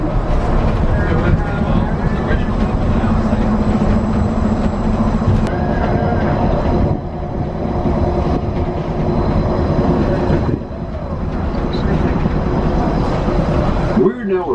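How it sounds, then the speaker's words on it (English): Disneyland monorail train running along its beam, a loud continuous rumbling drone with shifting whine and rattles, heard from onboard under a recorded announcer's voice. "Please remain seated until the monorail comes to a complete stop."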